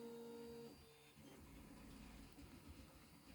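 A 3D printer hums and whirs steadily in the background, with faint motor tones and soft rattling throughout, no voices.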